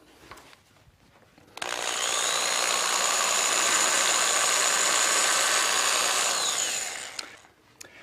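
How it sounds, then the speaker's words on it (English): A power drill runs steadily for about six seconds as it bores holes into a Halloween pumpkin, a loud continuous whine from start-up to wind-down, with no talking over it. "We've got a drill to drill holes in our pumpkin."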